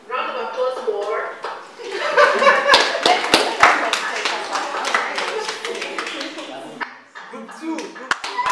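Room of course participants at a Nigerian graduation event clap unevenly, with sharp close hand claps, some chuckling and voices mixed in.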